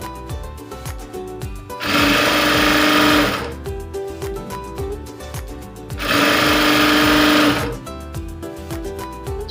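A sewing machine stitching a blouse front part, running in two loud bursts of rapid mechanical whirring separated by quieter ticking and handling noises.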